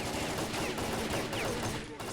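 Dense, sustained gunfire rattles through S.T.A.L.K.E.R.: Clear Sky near a hospital and construction site, a continuous loud barrage of overlapping shots with no clear pauses.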